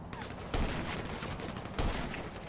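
A heavy sniper rifle fires in GTA Online, two loud booming shots spaced about a second apart over continuous noisy game sound.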